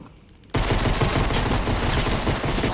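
Rapid video game gunfire erupts suddenly after a quiet start and continues as a dense, loud barrage of overlapping shots for the rest of the gun fight.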